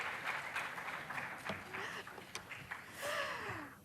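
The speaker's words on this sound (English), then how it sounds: "Oh, clap for them." Scattered applause for a team at a school quiz competition, mixed with voices and a rising exclamation from the audience.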